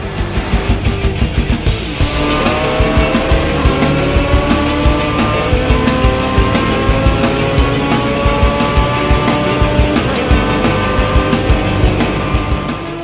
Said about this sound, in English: The sound of high-performance engines